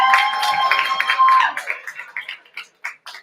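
Applause from a poetry slam audience in Berkeley, a brief burst of crowd clapping with a whoop or cheer that quickly tapers off into a few isolated claps.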